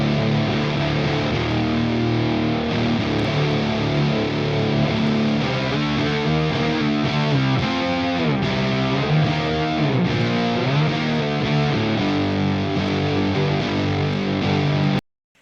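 A heavily distorted electric guitar plays thick, sludgy stoner-doom riffs with sustained droning chords throughout, then cuts off abruptly at the end.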